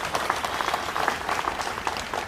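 A crowd at a political meeting with Chhath Puja committees claps briskly. The near, fairly loud applause has distinct individual hand claps showing through the brief burst, and nobody speaks over it.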